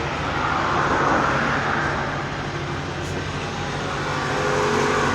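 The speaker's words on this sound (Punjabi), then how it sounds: "ਆਵਾਜਾਈ ਰੋਡਾਂ ਤੇ ਬਹੁਤ ਹੈ" Road traffic rumbles past on a busy road, a continuous broad roar of passing vehicles close by with no talk over it.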